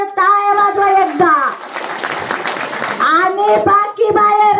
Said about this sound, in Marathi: त्यांच्यासाठी जोरदार टाळ्या वाजवा एकदा।